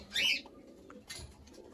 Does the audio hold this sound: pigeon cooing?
yes